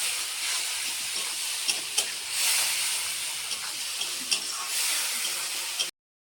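Loud, steady sizzling hiss of ginger and dried chilli paste frying in a pan with a little water for a soybean vegetarian dish, with occasional stirring scrapes, cutting off abruptly near the end.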